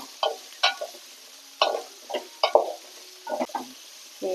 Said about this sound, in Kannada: ನುಗ್ಗೆಕಾಯಿ ಸ್ವಲ್ಪ ಚೆನ್ನಾಗಿ ಎಣ್ಣೆಯಲ್ಲಿ ಫ್ರೈ ಆಗಬೇಕು